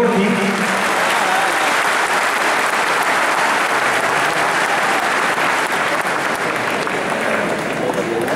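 Loud, steady applause from an audience at an Urdu poetry mushaira as a poet is introduced, dense clapping that continues without a break throughout.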